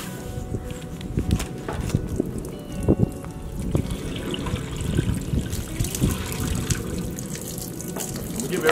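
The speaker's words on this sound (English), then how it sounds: "I'm gonna give everything a good rinse." Running tap water rinses a squirrel skull cleaned by sous vide, a close trickling and splashing stream broken by sharp knocks and handling sounds, with no clear talk.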